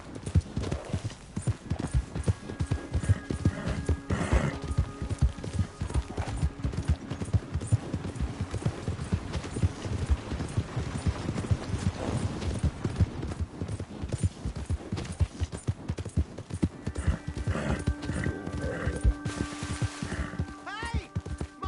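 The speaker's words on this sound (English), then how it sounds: "Hey, my horse!" Horse hooves clip-clop steadily in Red Dead Redemption 2, a close, continuous trotting rhythm with a brief whinny and some faint game chatter over background ambience.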